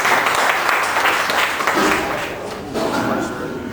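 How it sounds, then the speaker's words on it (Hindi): Audience at a Mansoori community meeting in a hotel hall applauding to welcome a speaker, steady dense clapping throughout that eases slightly then swells again, fairly loud and close. "जोरदार तालियों से इस्तकबाल कीजिए।"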